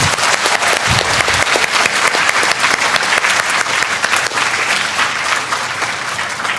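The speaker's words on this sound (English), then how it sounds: "we're going to give you a round of applause" A school assembly audience claps for second graders at an awards event, a loud, dense burst of many hands sustained evenly from start to finish with no voices over it.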